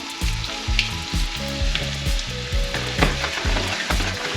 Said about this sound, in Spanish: hemos puesto en una sartén un poquito de aceite para freír la cebolla